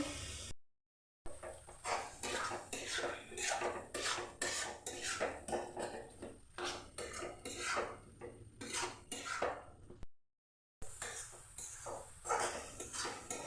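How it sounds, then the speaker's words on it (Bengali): A spatula scrapes and stirs mustard paste and tomatoes frying with spices in a metal pan, giving a steady run of close, busy scraping and clinking strokes with two brief gaps and no talk. "সর্ষে টমেটো দিয়ে আমি আরেকটু কষে নেব মশলাটাকে"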